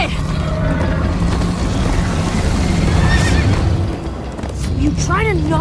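In Minecraft: Story Mode, a horse neighs loudly near the end, a shrill wavering whinny over rumbling, busy action noise and hoofbeats, with voices talking.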